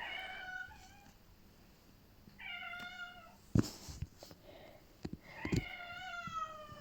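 A house cat meows repeatedly, several clear drawn-out cries close by, asking to be let back outside, with a few soft knocks and bumps in between.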